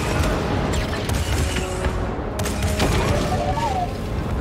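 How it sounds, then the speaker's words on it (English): A starship cannon fires in the video game Star Wars Jedi Fallen Order, with a rapid barrage of booming, gunfire-like blasts that carries on steadily throughout. "So that fires the cannon."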